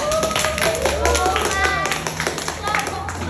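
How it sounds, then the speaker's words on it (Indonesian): A classroom of students claps for a student group, a rhythmic burst of tapping claps over chatter and voices, close and fairly loud. "Kita beri tepuk tangan."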